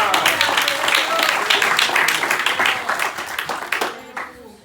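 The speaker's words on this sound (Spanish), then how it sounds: "Dale un aplauso al Señor." Congregation at a church service clapping for the Lord, a dense, lively burst of many hands with cheering voices mixed in, fading out near the end.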